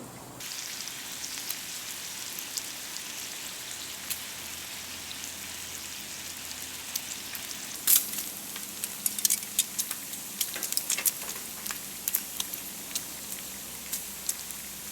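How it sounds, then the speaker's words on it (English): Bacon frying slowly in a pan at a campsite, a steady soft sizzle with small crackling pops growing busier toward the end, heard alone with no talking. "the goal here is to just let the bacon cook slowly so that it doesn't splatter everywhere"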